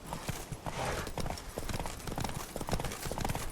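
Roach, Geralt's horse in The Witcher, gallops with quick, clear clip-clop hoofbeats in a rapid, uneven rhythm, close and moderately loud, with a brief whinny-like sound near the start.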